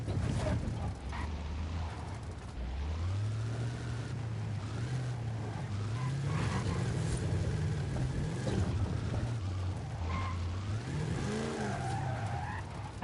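A Camaro's engine revs loudly and steadily in a racing video game, pitch climbing and settling across gear changes under a constant roar with tire skid noise.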